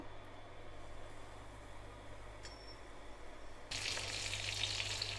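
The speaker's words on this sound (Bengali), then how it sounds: "এটাকে আমি এখন একটা একটা করে তেলের মধ্যে দিব।" Chicken cutlets are laid one by one into hot oil and fry with a faint steady sizzle, which swells into a louder, brighter crackle as another piece goes in.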